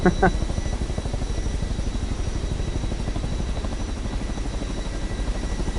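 A helicopter flies through rough, turbulent air from another aircraft's wash, its rotor chop a steady loud rhythmic thudding with a continuous engine drone, plus a brief voice at the start.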